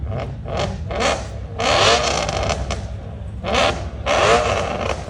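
Exhaust of a white BMW car at the Bimmer Invasion 2023 exhaust show in Los Angeles, revving hard in several loud, close bursts with short drops to idle between them.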